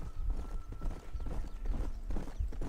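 Horse hooves clop and gallop in the Red Dead Redemption video game, a steady rapid beat heard close and fairly quiet alongside game ambience.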